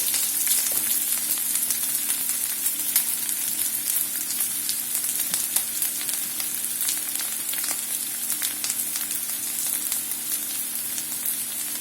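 Egg chilli fries in a pan with a steady, close sizzle and crackle, fine spitting pops scattered over a constant hiss and no speech.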